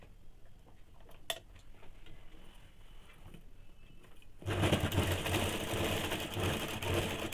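A sewing machine stitches a seam on a heavy-size petticoat, with a few quiet ticks and handling at first, then the motor starts abruptly and runs loud and steady to the end.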